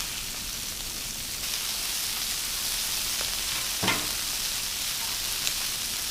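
Chicken wings frying on a Blackstone griddle, a steady soft sizzle throughout with a brief scrape and clatter as pieces are flipped, fairly quiet and close.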